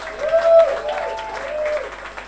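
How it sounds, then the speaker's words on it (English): A crowd claps and cheers after a band's set at a weekend music event. The applause is steady and moderately loud, with a voice or tones running faintly over it. "Give him a massive round of applause."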